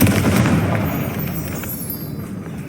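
A Confringo blast spell in Hogwarts Legacy erupts as a loud, close booming explosion, its rumbling roar slowly fading over a couple of seconds.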